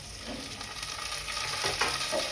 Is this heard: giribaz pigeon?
no